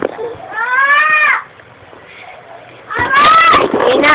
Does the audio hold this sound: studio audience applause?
no